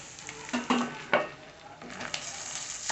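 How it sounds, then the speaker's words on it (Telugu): Spicy chicken frying in a covered pan, a soft sizzle punctuated by several brief scraping stirs and clinks, moderately close and fairly quiet, with no talking. "ఇప్పుడు మూత పెట్టేసి చక్కగా ఫ్రై అవనియండి"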